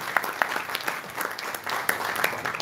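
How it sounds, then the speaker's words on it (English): Applause from an audience at a beer bloggers and writers conference: a short burst of clapping with a few sharp, distinct claps standing out above the crowd. "Did you already applaud for yourselves?"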